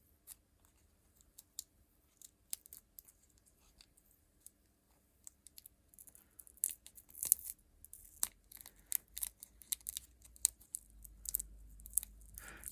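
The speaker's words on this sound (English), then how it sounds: "this sellotape is so sticky. I do want to remove it carefully" Sticky sellotape is slowly peeled off a Game Boy cartridge circuit board, a close, quiet series of small tearing crackles and clicks that grows busier and denser toward the end.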